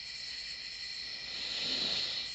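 A steady high-pitched cricket trill fills the night air at the end of summer, constant and even, with a faint low rustle partway through.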